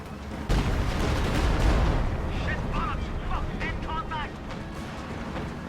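An anti-tank gun firing during a World War II strategy game match, a loud booming shot followed by a rumbling tail, with other battle noise under it.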